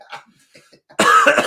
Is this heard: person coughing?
yes